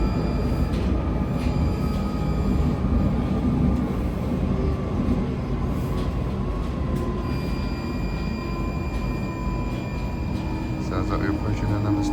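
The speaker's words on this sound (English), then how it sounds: "the motor of the train, they really open up once you get out of the tunnel, because the stations are more far apart" A London Underground Northern line train rides toward High Barnet, its traction motors droning and rising as it accelerates out of a tunnel, with steady rumble and faint rising whine, someone talking over it.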